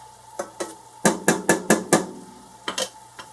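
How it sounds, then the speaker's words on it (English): Cream and corn kernels cooking down in a pan, heard as a series of sharp stirring scrapes and clinks of a utensil against the pan over a faint simmer. About ten strokes come in uneven bursts, close and moderately loud, with no talking. "the cream is cooking down quite a bit"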